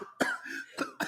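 Several quick, sharp coughs close up, a rapid burst of rough bursts with short gaps between them.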